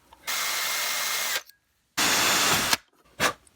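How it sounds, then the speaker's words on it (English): A power drill bores into the ignition lock cylinder of a 2006 Honda Pilot to reach a pin, in two loud sustained bursts of whirring broken by a short pause, then a brief third burst. "So I'm going to drill down to it that way."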